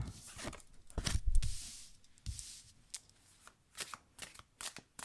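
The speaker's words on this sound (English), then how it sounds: "I feel like I want to draw one more card." A tarot or oracle deck is shuffled by hand up close, a burst of riffling followed by a series of soft, rhythmic card slaps before another card is drawn.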